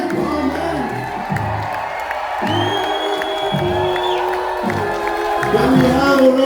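A concert crowd cheers, whoops and applauds with a continuous roar that builds slightly toward the end, while someone speaks over a microphone.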